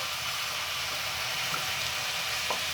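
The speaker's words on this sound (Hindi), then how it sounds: "इसमें मैं डालने लगी हूँ सिरका, तकरीबन 2 टेबल स्पून।" Vinegar added to chicken curry in a hot pan sets off a loud, continuous hiss and sizzle that holds steady throughout, with a faint splash or two.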